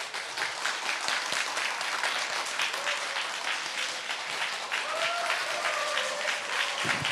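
Applause from a seated audience at a Korean business presentation, a dense, steady wash of clapping that holds evenly loud for several seconds without pause.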